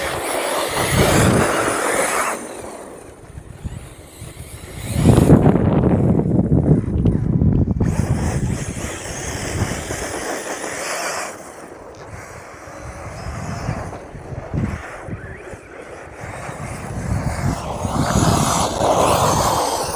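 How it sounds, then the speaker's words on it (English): Arrma Typhon TLR RC buggy tearing across dirt, with a loud motor whine and rough gritty rumble that swell and fade in bursts, close by and without talk. "Just love that shot of the wheels tearing up the dirt."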